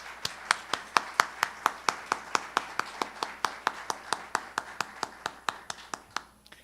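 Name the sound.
audience applause at a tribute ceremony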